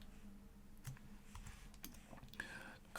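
Keys tapped on a computer keyboard while working in Photoshop, with a few soft, scattered clicks close by at low volume and no talking.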